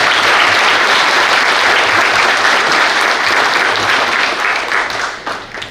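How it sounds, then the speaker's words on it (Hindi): Loud, dense applause from a large seminar audience of traders, a continuous roar of clapping that holds steady and tapers off in the final second. "तो एक बार जोरदार तालियां हो जाए बंटी सर के लिए।"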